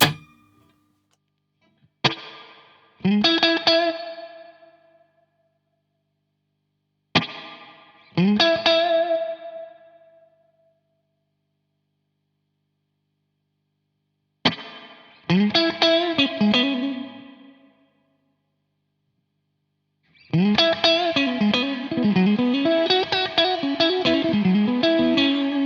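A Strymon Flint pedal puts clean spring reverb on an electric guitar: several separate strummed chords and notes ring out and decay with a splashy tail, then a longer busier passage follows, with no talking.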